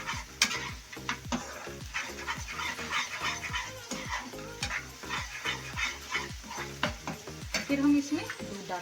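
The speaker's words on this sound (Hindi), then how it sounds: "ये डाल के मेथी भुनेंगे।" Fenugreek leaves, already fried, roasting in a pan while being stirred for methi malai paneer, with steady sizzling and a repeated scraping rhythm of the spoon, close and moderately loud, no talking.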